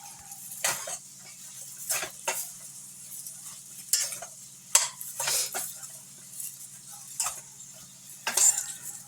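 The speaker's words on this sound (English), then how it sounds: "Every time I put a little bit in, I give it a stir just to make sure that all the seasons are over the cabbages." A spoon stirring seasoned cabbage in a pot, with repeated short scraping strokes in an irregular rhythm and brief clinks against the metal, close and fairly quiet.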